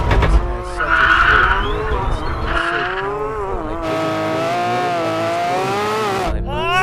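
A Porsche 911 GT3 RS launches hard in a drag race, its engine revving loud and close in rising harmonic sweeps, with tyre squeal and a brief voice early on before the engine note climbs steadily.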